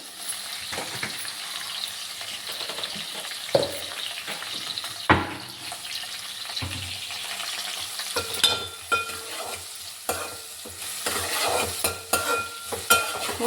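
Prawns stir-fried in a pan for a Telugu gudlu endroyyalu curry give a steady broadband sizzle, broken by sharp scraping stirs and clanks of the spatula. The activity grows busier toward the end, and no voice is heard.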